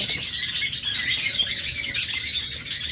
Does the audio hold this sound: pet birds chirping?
yes